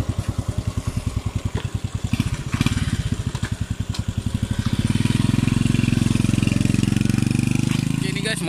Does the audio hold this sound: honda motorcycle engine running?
yes